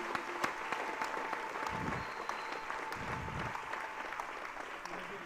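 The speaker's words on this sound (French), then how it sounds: "Applaudis très bien pour le Seigneur Jésus-Christ." A congregation at a mass prayer service applauds, a soft, continuous patter of many hands heard from a distance, with faint voices mixed in.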